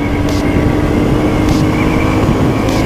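A Royal Enfield Classic 350 motorcycle pulling hard through the gears at speed, a loud, continuous engine drone with steady wind rush and brief shifts in pitch.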